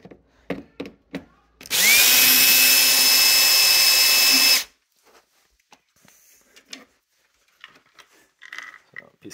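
A power drill or driver runs in one loud, continuous whine for about three seconds while loosening screws on an arcade control panel, with scattered clicks and handling noises and someone talking before and after.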